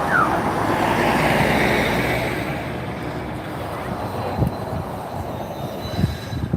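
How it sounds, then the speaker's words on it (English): A vintage Volvo B10M bus, registration N940GD, pulls away on a tour circuit at a Glasgow transport museum running day, giving a broad, steady rumble that swells early and then eases off, with faint voices nearby. "Volvo B10M N940GD departing on one of the tours"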